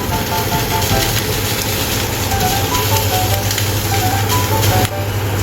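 Condiments, including peppercorns, stir-fried in a pan with roasted potato slices, with a continuous close sizzle and faint scraping of stirring throughout.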